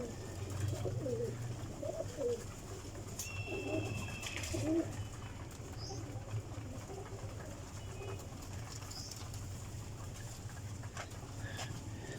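Pigeons in a loft of eight males and eight females coo in low, throaty phrases, repeated through the first half and fading later, over a steady background hum with faint bird chirps.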